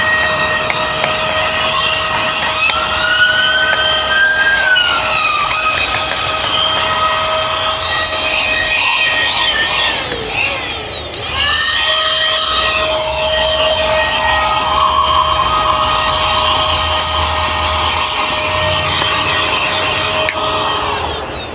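A Xiaomi Mijia portable 4-in-1 vacuum cleaner hums with a steady whine while its brush rubs and scrubs back and forth over pile carpet, the motor tone shifting as the brush moves.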